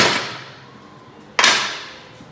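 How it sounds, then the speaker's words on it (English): Two sharp metallic impacts, like hammer blows, ring out and decay while a lower control arm is removed from a 2001 Jeep Cherokee XJ. "lower control arm coming out"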